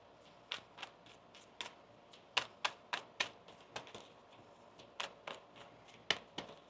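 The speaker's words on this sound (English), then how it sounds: "One more shuffle now." A deck of tarot cards is shuffled, giving sharp, irregular snapping taps and riffles in quick clusters, close and fairly quiet with no talk.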